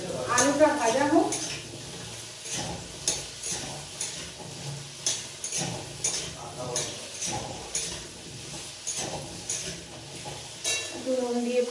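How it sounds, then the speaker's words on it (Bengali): Potatoes frying in oil in a wok, a steady sizzle broken by repeated clinks and scrapes of a utensil against the pan, close by, with a voice talking over parts of it. "আলুটা ভাজা হোক।"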